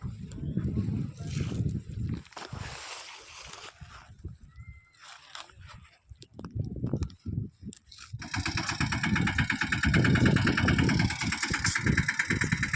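A tractor engine rumbles and idles unevenly, fading in and out amid people talking nearby, then revs louder and steadier toward the end.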